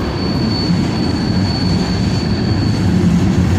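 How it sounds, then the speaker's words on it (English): A green BNSF freight train passes close by. It makes a loud, continuous rumble with a thin, steady high whine riding on top for the whole stretch. "Right there, you see that green train?"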